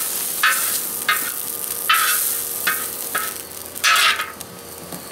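Pork lo mein sizzles in a discada cowboy wok, with loud scraping stir strokes roughly every second or so over a steady frying hiss, close by and alone.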